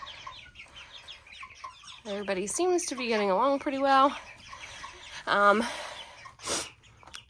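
Sapphire Gem hens and meat chickens kept together in a pen give several loud clucks and squawks in short bursts, close by, while a person talks between them.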